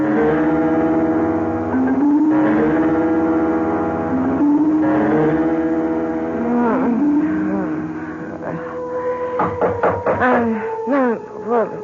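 A car drives along in a radio drama, its steady engine hum shifting gear and pitch, then slowing with rattles and clunks as it comes to a stop, close and fairly loud with no talk.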